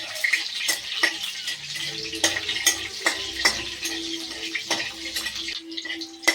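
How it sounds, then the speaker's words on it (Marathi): Green chillies fry in hot oil with cumin and mustard seeds for a dry fenugreek dish, a constant crackling sizzle punctuated by sharp spoon taps against the pan. "मिरची हलवून घ्यायची, चांगली तळू द्यायची।"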